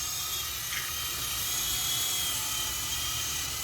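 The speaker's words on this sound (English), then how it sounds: "Pretty nice Sky Rover King helicopter." A Sky Rover King RC helicopter flying at night outdoors near a house, its steady high-pitched rotor whine and motor buzz continuous and fairly constant throughout, with no talking.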